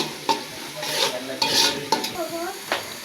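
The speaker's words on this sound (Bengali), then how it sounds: "তো আমার পেঁয়াজটা হালকা ভাজা হয়েছে" Onions frying in a pan, sizzling steadily while a spoon stirs and scrapes them in several distinct bursts, close and fairly loud with no talking.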